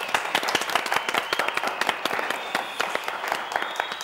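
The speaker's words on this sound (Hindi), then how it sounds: "सब लोग ताली बजाओ ना।" A small group in a studio breaks into quick, close, rhythmic applause with distinct individual claps, dense and lively for a few seconds without talk.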